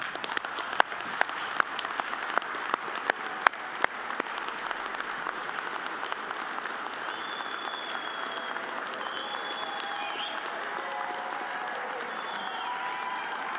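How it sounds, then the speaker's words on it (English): A graduation audience at a lineman college ceremony applauds steadily and fairly close, a dense crackle of many hands clapping that holds at an even level for the whole stretch, with a few sharper individual claps standing out early on. "join me in giving a round of applause to those who have helped you reach this incredible moment"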